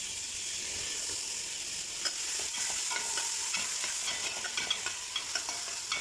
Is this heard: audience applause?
no